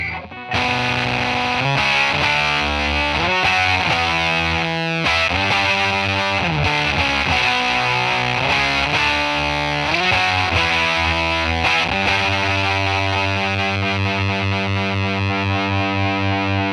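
Hello Kitty Stratocaster electric guitar played through a fuzz pedal, giving a thick, saturated, chaotic tone that sustains loudly and continuously as chords and riffs shift, with no talking over it.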